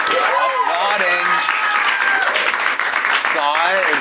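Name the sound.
studio audience mildly applauding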